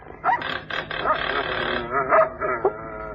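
Several dogs inside a house bark, yip and whimper almost continuously, fairly close and loud after the kitchen doorbell rings.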